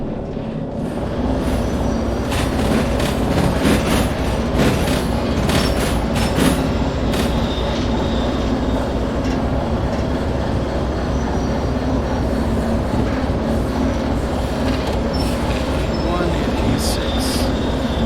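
A long train rumbles steadily along the track in the Derail Valley video game, with a continuous loud rolling drone and faint clanks throughout.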